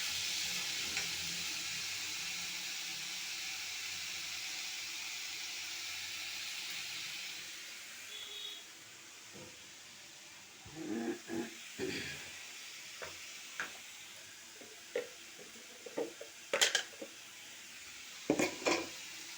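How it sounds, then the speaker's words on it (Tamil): Drumstick leaves sautéed in a pan for an adai batter, with a soft steady sizzle fading out, followed by scattered scraping and stirring clinks of a spoon against the pan. "போட்டு நல்லா வதக்குறோம். கொஞ்சம் ஃபாஸ்ட்டாக வதக்கிக்குங்க."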